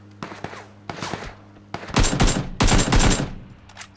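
Rapid gunfire from a partner in the Quad Xtreme video game crackles in short bursts, the first few separated by brief pauses before denser, louder volleys, with no talk.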